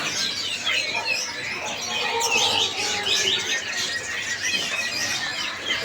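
Many birds chirp and tweet at a kiosk in the Pramuka bird market, with busy overlapping calls, occasional cooing and flapping wings over a steady market hum.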